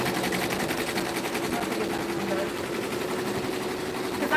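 An SWF 12-needle embroidery machine stitches out a large satin stitch with a continuous rapid mechanical chatter, steady and fairly close.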